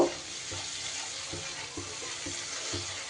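Spice paste frying in a pan makes a steady, close sizzle that runs throughout, with soft periodic scraping knocks as it is stirred.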